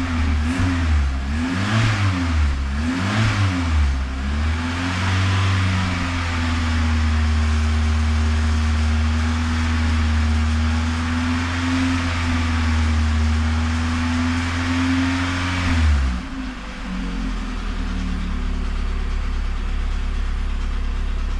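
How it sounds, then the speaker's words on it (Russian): A LADA Priora car engine revs in several quick bursts, then holds a steady raised drone before dropping back to a rough idle; close and continuous. "Пойду прогазовываю."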